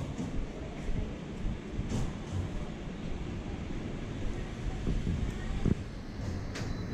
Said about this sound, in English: The sky deck is all open and open to the elements, so it's very windy.